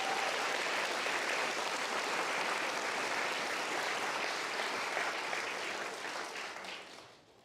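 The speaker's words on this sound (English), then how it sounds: "If we can get one more round of applause for our 25-1 class" A crowd at a fire academy graduation ceremony claps in sustained, dense applause that holds steady, then fades away near the end. No one speaks over it.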